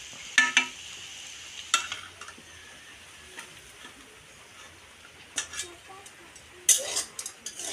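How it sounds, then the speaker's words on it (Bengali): Carrot pieces fry in mustard oil in a pan, with a soft continuous sizzle broken by several scraping stirs and clinks, and a faint voice in the background. "গাজরটা ভেজে নিচ্ছি সর্ষে তেল"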